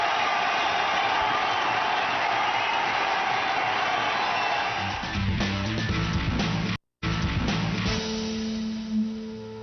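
A stadium crowd at the 1998 Coca-Cola Cup cricket final roars after a six, a loud sustained wash of cheering that eases off, with a brief dropout near the end.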